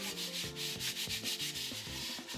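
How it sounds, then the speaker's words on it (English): Sandpaper rubbed by hand over a surface being prepared for priming makes a steady back-and-forth scratching, close and continuous with a regular stroke rhythm and no talk. "I hate sanding."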